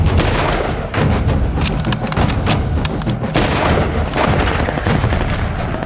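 World War I battlefield din of artillery and gunfire, a dense, loud barrage of booms, thuds and crackling shots layered over one another throughout, with no voices.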